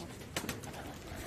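Pigeons of the prized Chinese breed coo on a terrace rooftop during a pigeon-flying hobby session, a few soft calls standing out briefly over steady background noise.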